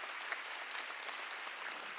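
A church congregation claps during a Wednesday worship service, a soft, even wash of many hands applauding, heard alone.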